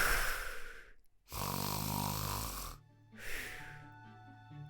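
A voice imitates the wolf's loud, chainsaw-like snoring from the Little Red Riding Hood story, giving three long rasping snores separated by short pauses, each rumbling and close.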